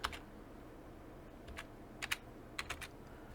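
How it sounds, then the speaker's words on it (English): A code is typed on a computer keyboard, a few quiet, scattered key clicks in small clusters over a hushed room background. "And I can type in my code"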